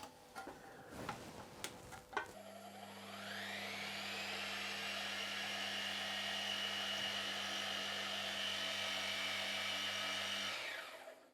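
A few clicks and taps, then a power drill whirs up to speed and runs steadily for several seconds drilling an offset hole in an RC car gearbox part before winding down.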